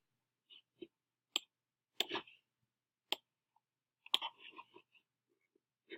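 Sparse mouse clicks on a computer while navigating a website dashboard: about a dozen short, faint, isolated clicks at irregular intervals with quiet gaps between them.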